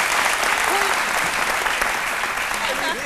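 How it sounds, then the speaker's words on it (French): A TV studio audience applauds steadily throughout, a dense wash of clapping with a few cheers rising near the end, close and loud, with faint talk underneath. "on l'applaudit très fort"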